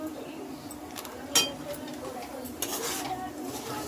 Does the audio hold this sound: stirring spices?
yes